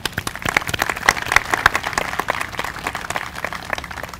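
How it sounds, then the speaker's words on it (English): Audience applause at an outdoor ribbon cutting for a memorial park in Huntsville, a dense steady patter of many hands clapping close by for about four seconds, with a few sharper claps standing out. "you deserve a round of applause"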